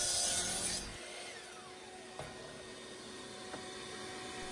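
Saw cutting out wooden pieces for making wooden threads, a steady rasping hiss at moderate level after a louder opening burst, with two faint sharp ticks partway through.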